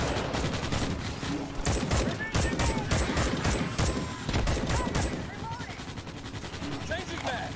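Morita assault rifle fire in the Starship Troopers: Extermination video game, rapid bursts of automatic gunshots in close clusters among other battlefield noise, loud and dense.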